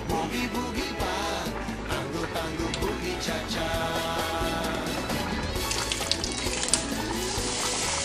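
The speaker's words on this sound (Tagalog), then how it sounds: "umuusok na yung aking kawali na mayroong olive oil. Ilalagay ko isa-isa itong pancetta." Pancetta pieces dropped into a smoking-hot pan of olive oil, giving a loud, steady, close sizzle with a few sharper crackles toward the end and no talking.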